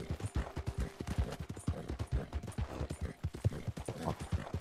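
Horse hooves clip-clopping at a steady riding gait through a foggy canyon in Red Dead Redemption 2, with close, rhythmic thuds running continuously throughout.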